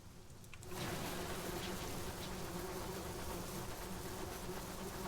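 Steady, dense insect buzz of a swarm of bees in the video game Sunless Skies, constant and fairly close after a brief quiet start, with no one talking.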